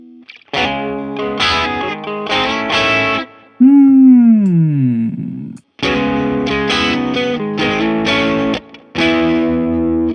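Overdriven electric guitar through a Satch OverDrive pedal in AmpliTube 5 plays punchy chords in short bursts, broken by a sustained bending note that slides downward, with brief pauses between phrases.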